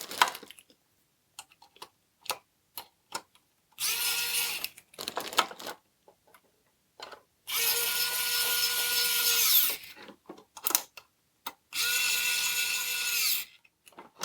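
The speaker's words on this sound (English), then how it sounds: "we are screwing the pot into the enclosure" A powered driver screws a potentiometer into the enclosure of a vintage Polish desk lamp, with three sustained whirring runs of a few seconds each, separated by short clicks and handling taps, close and clear with no speech.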